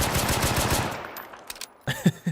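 A modded pistol in a survival shooter game fires a fast, evenly spaced string of loud close shots for about a second, then fades into quieter game sounds with a few scattered impacts.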